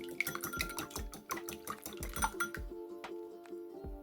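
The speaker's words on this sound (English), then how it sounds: "whisk the eggs" Eggs being whisked in a bowl for Greek meatballs give a quick, rhythmic run of light ringing clinks, fairly close and clear, pausing briefly before a few more scattered taps.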